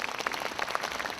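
Parents at an admissions briefing applaud, a short burst of many hands clapping, somewhat distant and even.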